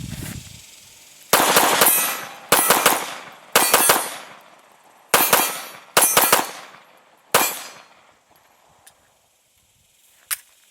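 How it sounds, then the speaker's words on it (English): A CZ P-07 Duty pistol fires six sharp, loud shots in an uneven string over about six seconds, each followed by a short ringing decay, then silence and one fainter crack near the end. "Let's shoot the CZ P-07"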